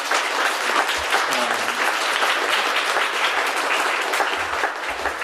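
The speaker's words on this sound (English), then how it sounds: "Let's get a big round of applause for our panelists." An audience at a gallery panel talk applauds steadily and loudly throughout, a dense wash of clapping hands.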